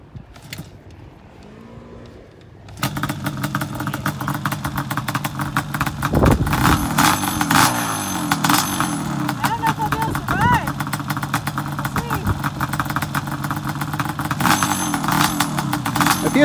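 A Yamaha Banshee ATV at Prairie City OHV park, its two-stroke engine starting up and running with rising, wavering revs, loud and close under frequent talking.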